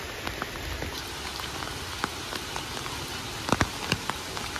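Steady rain falls at an elephant yard beside an old palace, a dense even patter close by with scattered louder drips and splashes, no voices.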